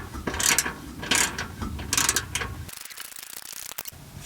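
A ratchet wrench tightens a threaded part on a Ford E-Series Class C RV front suspension, a close run of rhythmic clicking strokes repeating four times, then quieter scattered ticks.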